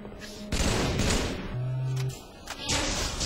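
Grenade launcher fire in the Halo 3 video game, several loud thumping blasts and bursts of gunfire with a short electronic tone between them, fairly close and punchy, no clear speech over them.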